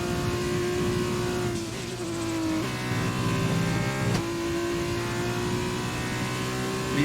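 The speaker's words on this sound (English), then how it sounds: "I need to listen to this engine a lot more" A Formula 1 race car engine in the F1 2020 video game drones steadily at high revs, with brief pitch dips at gear shifts, loud and continuous with no talking.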